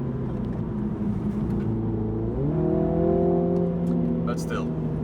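A MINI JCW GP engine with the throttle feathered, a steady droning hum that rises in pitch midway and holds, with a faint high whine near the end and no talk.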